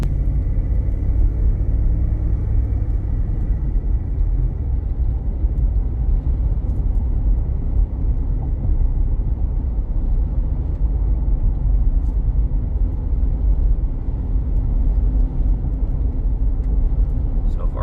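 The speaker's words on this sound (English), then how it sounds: "Truck's driving nice and straight." Steady, heavy rumble of a 2021 Ford F-250 Super Duty XL STX pickup truck driving on a bumpy road, with low road noise and bumps throughout, muffled as if heard from inside the cab.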